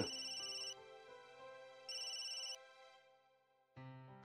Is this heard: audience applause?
no